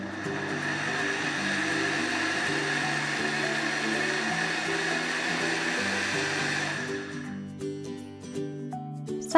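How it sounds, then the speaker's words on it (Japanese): A blender blending turnip and garlic soup with soy milk or milk whirs in one steady, loud drone for about seven seconds, then winds down and stops, followed by a few light clinks. "豆乳か牛乳と一緒にミキサーにかけます"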